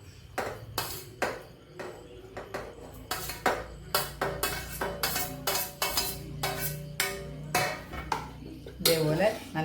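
Boiled cauliflower goes into a pan of thickened sauce, giving a long run of loud, rhythmic metal clanks and clinks from utensil on pan, with faint talk now and then underneath.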